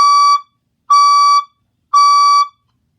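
A building fire alarm blares three loud, even electronic tones, each about half a second long with short gaps between, piercing and close with no voices.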